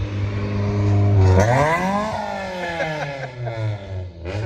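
A Honda Civic engine revs up and falls back in a rising and sliding whine, loud and close, with clattering mechanical tones and no voices.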